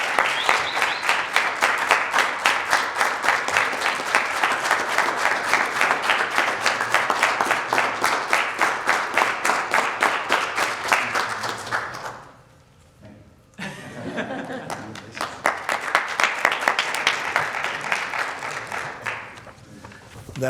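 An audience at a city's State of the City address applauds an award recipient with dense, steady clapping that carries on at length, briefly dips, then swells again.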